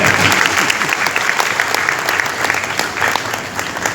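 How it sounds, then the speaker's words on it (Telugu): Listeners at an ISKCON Krishna Ashtami talk in Tanuku give a limp, steady round of applause, a continuous patter of many hands at moderate loudness with no talking over it. "చాలా నీరసంగా కొడుతున్నారండి చప్పట్లు"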